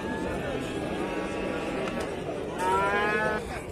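Dairy cows low at a cattle market in Jalal-Abad, Kyrgyzstan, giving a drawn-out moo and then a louder one near the end. The calls sound over crowd murmur and nearby talk.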